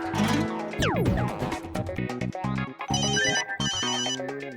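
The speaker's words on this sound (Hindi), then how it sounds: "अरे जॉनी का ही फोन आ रहा है" A loud, busy melodic phone ringtone plays continuously, with layered electronic tones and bright repeated chimes.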